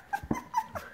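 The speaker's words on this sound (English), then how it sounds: "Are you barking at me?" An Airedale Terrier puppy in a litter gives a few quick, soft yips and whimpers, close and brief, with no talk over them.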